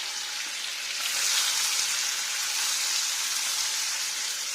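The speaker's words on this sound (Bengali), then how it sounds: "আর পনিরটাকে ভাজবো" Paneer fries in hot oil with a dense, steady hiss and crackle that holds at an even level throughout.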